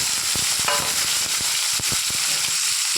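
Mustard seeds, cumin, fenugreek and urad dal crackle and sizzle in hot oil while tempering for a radish kootu, a dense, continuous frying hiss broken by sharp popping seeds and the scrape of stirring.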